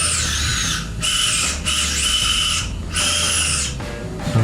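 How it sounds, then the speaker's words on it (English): A high-pitched surgical bone drill bores through a dog's tail vertebrae during a tail transplant operation, whining in several sustained bursts separated by brief pauses, close and fairly loud. "I'm drilling a hole through the center of each of the tail vertebrae now"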